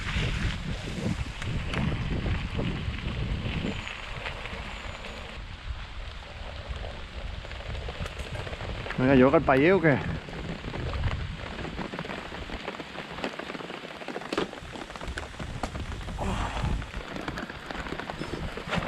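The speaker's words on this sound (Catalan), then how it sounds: "La pluja, pensàvem que marxava," Steady rain pours during a mountain bike trip through the Pyrenees, a constant wash of hiss with gusts of wind on the microphone, and a person speaks briefly over it.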